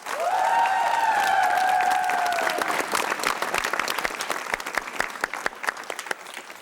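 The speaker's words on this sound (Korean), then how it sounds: "팀에게 격려 박수 보내십시오" Studio audience on a 1994 Korean TV word-puzzle quiz show breaks into loud, dense applause that sustains steadily, then thins into scattered claps as it fades out.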